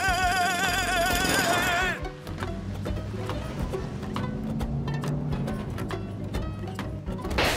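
A rapid, rattling cartoon drill in Dr. Panda hammers away continuously after a brief burst of squiggly musical tones, loud and close.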